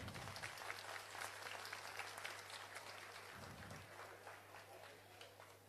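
An audience at a speech applauds in a steady, faint patter of many hands, with a low hum underneath.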